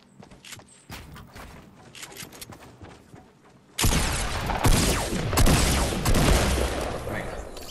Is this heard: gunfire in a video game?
yes